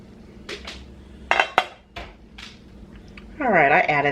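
A pot of homemade chicken noodle soup is pushed across the stove top, giving a few metallic clanks and scrapes. A short voice is heard near the end.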